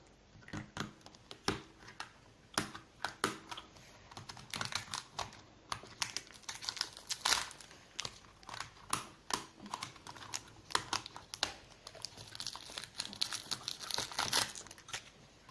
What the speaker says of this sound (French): on va ouvrir de nouveau toutes les cases